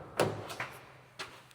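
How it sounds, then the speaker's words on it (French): A car door being opened: a few quick close clicks and a soft thump of the latch and handle, fairly quiet, with no talking. "J'ouvre la porte."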